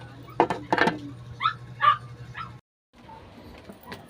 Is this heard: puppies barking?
yes